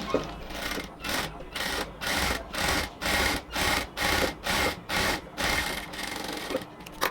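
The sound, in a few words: sewing machine stitching a cotton kurti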